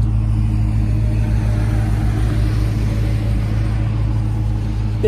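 Idling 2021 Dodge Charger R/T with dual exhaust: a deep, steady low rumble close by, pulsing slightly and continuous throughout, with no voices over it.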